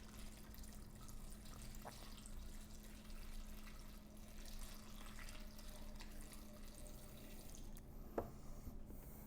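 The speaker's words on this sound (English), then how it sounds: "I'm just going to pour this a little bit right now and see how that works" Wiper fluid poured into the reservoir of a Fisker Ocean One, a faint steady liquid trickle with a low hum beneath and a few small drips, one sharper tap near eight seconds, no talking.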